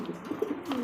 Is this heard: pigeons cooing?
yes